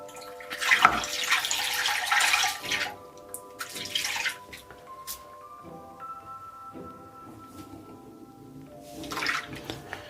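Running water from a tap splashes over a safety razor during a wet shave rinse, a steady broadband rush with bursts near the start and end, close and fairly loud, with no talking.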